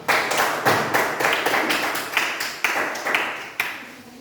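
A class clapping hands in a cable-wiring lesson, a loud run of repeated, evenly spaced claps from a small group, each burst sharp and close, with no talk over them.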